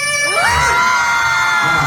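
Live comedy show audience in an Australian venue cheering, whooping and shouting together, a loud sustained crowd roar with overlapping yells and screams filling the whole stretch.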